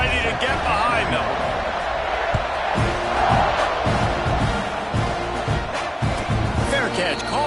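Stadium crowd at a college football video game roars and cheers before a kickoff, a broad wash of noise under an announcer's steady commentary.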